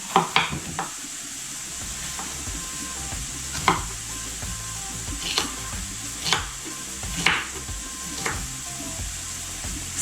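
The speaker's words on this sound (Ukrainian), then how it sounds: "Наріжемо болгарський перець та помідорки." Several sharp knife strikes on a board, chopping bell pepper and tomatoes, spaced irregularly over a steady background hiss, like a pan sizzling nearby.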